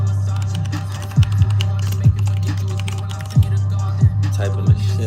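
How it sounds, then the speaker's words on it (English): Keys tapped on a computer keyboard in a few sparse, irregular clicks over a steady low electrical hum, fairly close, with no talking. "Typing this shit"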